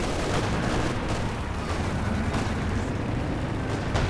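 Dense, continuous rumbling barrage of 152 mm artillery fire in Company of Heroes 2, a sustained roar of overlapping blasts and booms with no clear pauses across the whole stretch.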